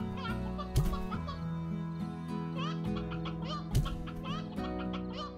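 Game roosters and hens from Slime Rancher cluck and squawk in overlapping bursts, layered over steady tonal background music, with a couple of louder thumps.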